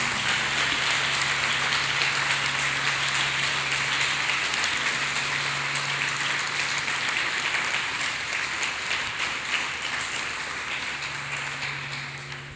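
A church congregation claps hands for Jesus Christ in sustained, dense applause that runs steadily throughout, loud and crowd-wide, with a low steady hum underneath.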